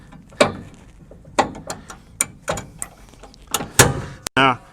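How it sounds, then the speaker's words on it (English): Metal hitch pins are pulled from an Airstream travel trailer's hitch, a series of sharp close clanks and scrapes spaced through the clip, with a voice talking over them. "so I'm just going to pull the pins out."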